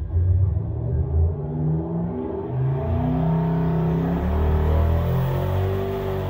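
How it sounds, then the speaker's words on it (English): An engine fitted with a prototype Armageddon twin turbo system makes a loud, close pull, the note climbing steadily with rising revs and a deep rumble underneath throughout, no voices. "hooked the prototype twin turbo system back up and started making pulls"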